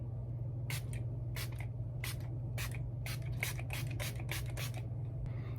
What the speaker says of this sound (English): Now I'm going to set this makeup look with the Milani Make It Last Original Setting Spray